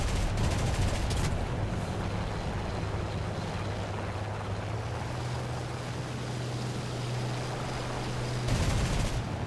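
A BF 109 G-6 fires its guns during an aerial battle in the game War Thunder, loud continuous bursts over a steady engine drone throughout.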